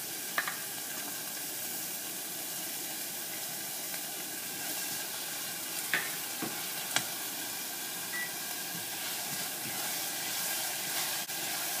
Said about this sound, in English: I'm going to add the onions so we can begin sweating the onions